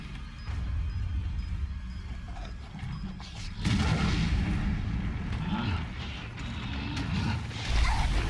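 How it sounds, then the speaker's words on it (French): A bomb blast in the survival horror game Resident Evil 7: Biohazard, heard as a sudden loud boom followed by sustained rumbling and crackling debris noise, with a second burst near the end. "on va essayer une bombe"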